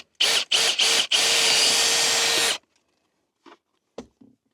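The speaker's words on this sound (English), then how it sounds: "I got a 1/4 inch drill bit, and that's going to be just about the right size." A power drill with a quarter-inch bit drills into material during a DIY power-step override switch install, opening with three short bursts and then running in one long loud whine before stopping, followed by a few faint clicks.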